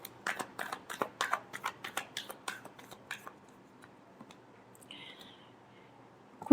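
Tarot cards shuffled by hand close up, a quick series of crisp riffling flutters that slows and trails off, followed by near silence with a faint soft rustle near the end.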